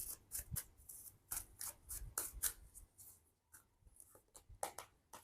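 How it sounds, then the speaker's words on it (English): A deck of tarot cards is shuffled by hand, with sharp bursts of riffling and slapping in uneven rhythm, close and fairly quiet. "We have too many cards to reshuffle."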